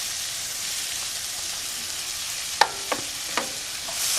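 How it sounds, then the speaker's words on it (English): Onions sizzle in butter in a frying pan, a steady close hiss broken by a few light clicks of stirring near the end. "I'm going to throw in my onions."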